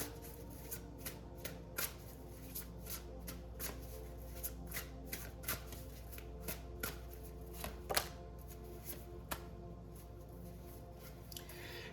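Cards are handled and shuffled during a tarot-style reading, making soft riffling and flicking sounds with scattered sharper snaps over a steady low hum. The sound is quiet and close, with no speech.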